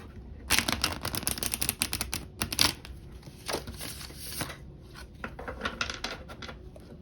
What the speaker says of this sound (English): I just got sprayed with the cards when I was trying to shuffle them.